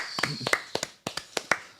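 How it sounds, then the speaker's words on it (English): A brief, sparse round of hand claps for Sydney FC, about eight sharp, uneven claps at close range with short gaps between them, loud against a quiet background. "We've got Small clap for Sydney for the first time in about 8 weeks."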